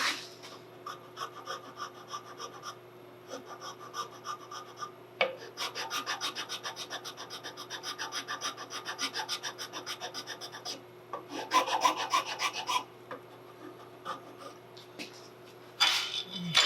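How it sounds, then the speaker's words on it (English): A half round file rasps across wood while a buttplate is fitted on a Southern Mountain Rifle kit, with repeated back-and-forth strokes in quick runs broken by short pauses, close and clear with no talk. "I can grab a different file here. Half round file, it'll probably work a little better."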